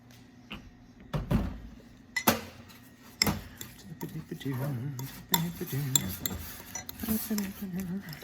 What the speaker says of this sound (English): Stirring it around.